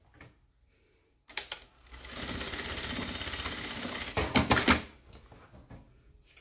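A sewing machine stitches a fabric double pencil case, starting after a quiet moment with a few clicks, then running steadily at close range for about three seconds before slowing and stopping.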